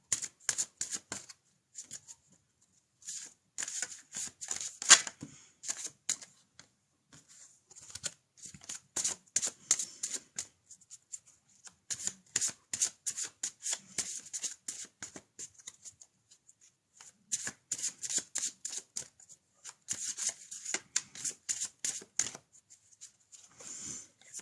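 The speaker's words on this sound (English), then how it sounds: "give me a few seconds till I give them a shuffle" An oracle card deck being shuffled by hand in irregular bursts of crisp riffling and sliding, close and fairly quiet, with short pauses between rounds.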